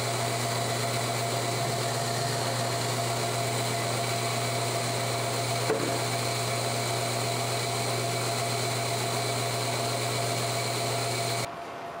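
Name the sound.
automatic 4-bottle bottler filling bottles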